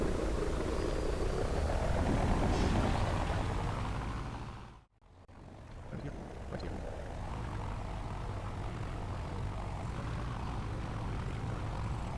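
Propeller aircraft engine throttling up for takeoff on runway 18 at Bresso in a flight simulator, a continuous droning hum with a brief dip midway, then steady again, no voices.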